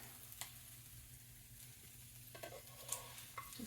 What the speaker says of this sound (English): And we're going to keep frying up eggs.